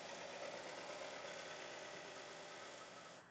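A Melco embroidery machine stitching a letter, a steady, dense mechanical whir with rapid needle rhythm, close and even throughout, no voices.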